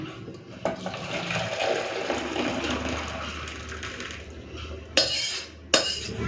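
Freshly cooked biulir dal, a urad lentil soup, is poured steadily from a pot in a home kitchen, making a continuous wet rush, followed by two sharp clinks of metal utensils near the end.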